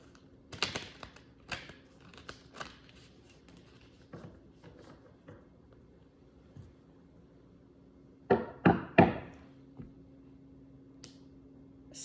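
Tarot cards being shuffled by hand, heard as scattered crisp riffling and tapping bursts with a tight cluster near the end, close and clear over a quiet room hum.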